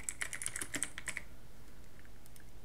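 Typing on a computer keyboard, with a quick run of crisp, close keystrokes for about a second, then a pause and a couple of faint taps.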